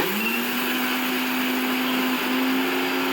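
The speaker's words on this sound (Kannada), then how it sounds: "ಇದನ್ನು ಬರೀ ಹುಚ್ಚೆಳ್ಳನ್ನೇ ಹಾಕಿಬಿಟ್ಟು ನಾವು ಮೆಣಸು ಪುಡಿ ಮಾಡೋ ರೀತಿ ಇದನ್ನು ಪುಡಿ ಮಾಡ್ಕೊಳ್ಳೋಣ" A mixer grinder whirs steadily as it dry-grinds niger seeds into powder, a loud continuous motor drone with a rough, gritty edge, close by and with no voices.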